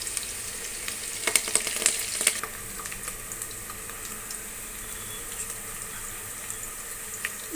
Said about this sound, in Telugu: ఇది గోల్డెన్ కలర్ వచ్చేంత వరకు వేయించుకోవాలి. నేను కరివేపాకు యాడ్ చేస్తున్నాను.